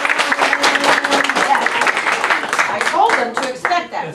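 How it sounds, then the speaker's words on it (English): Audience at an elementary school music program clapping wildly, a dense close burst of applause from many hands with voices mixed in and calling out near the end. "Yes, you can clap wildly."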